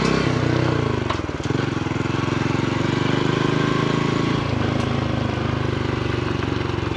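A Honda CT125 motorcycle heads off on a ride, its small single-cylinder engine chugging in a steady, close, loud putter that rises slightly as it pulls away, with no voices over it.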